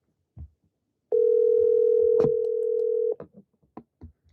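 A single long steady telephone tone, loud and close, sounds for about two seconds while a phone call is placed, with a few brief clicks and bumps before and after.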